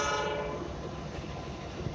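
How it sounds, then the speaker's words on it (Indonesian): A train rumbles along at a distance, a faint locomotive horn tone fading at the start under a low, steady rolling noise. "Di sana ada kereta api"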